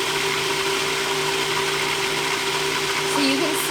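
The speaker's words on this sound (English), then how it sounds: "it's getting thinner and thinner as the blades are chopping" A blender purees chimichurri herb sauce with a constant motor whir and a steady mid-range tone from the spinning blades, close and loud and holding even throughout, with a brief rise near the end.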